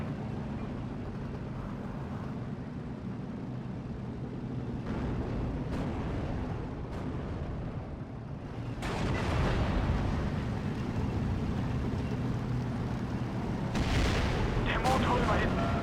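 Tanks firing in Steel Division 2 during a large armored battle: a steady engine rumble is broken by several heavy booming shots and crackling impacts, growing louder toward the end.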